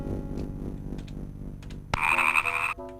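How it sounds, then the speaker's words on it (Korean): A toad croaks in a classic DOS martial arts game, a sudden bright synthesized croak after quieter game sounds, lasting under a second before fading. "웬 두꺼비 소리?"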